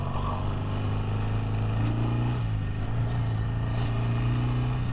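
A 1971 BSA 650 Lightning British twin motorcycle engine runs steadily throughout, a loud, close, continuous low throb with a slight rise in revs partway through and no talking.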